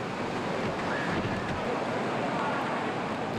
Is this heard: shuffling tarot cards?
no